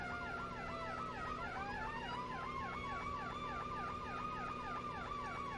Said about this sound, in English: just take a look at those sirens. Very loud